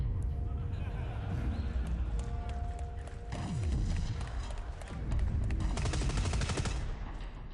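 Heavy machine gun firing in the Dust 514 video game, rapid bursts of gunfire in quick rhythmic runs over a rumbling battle background, loud and close, with people talking over it.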